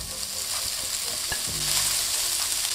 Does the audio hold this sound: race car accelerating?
no